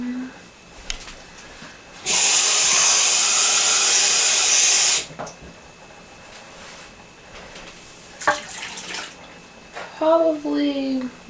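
Water runs hard from a kitchen sink tap into emptied cans for a beef stew, a loud steady gush lasting about three seconds, followed by clinks and handling sounds.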